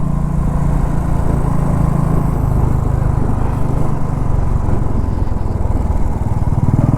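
Motorcycle on a ghat road during a Mumbai to Saputara ride, a loud, steady engine drone with constant wind buffeting that runs continuously throughout at close range, with no speech.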